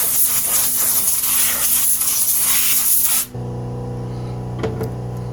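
Penetrating oil sprays down the engine bores of a 1953 Riley as one loud, close hiss lasting about three seconds. It cuts off abruptly and a faint clink follows.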